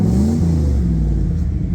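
The engine and new exhaust of a 1990 Chevrolet C1500 shop truck rev loudly and close, a deep rumble rising and settling over under two seconds, with no voices.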